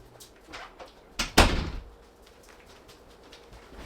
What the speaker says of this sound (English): Hey, close the door.